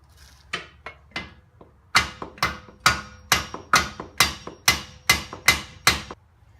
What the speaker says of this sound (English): I just hit it with a hammer for a couple minutes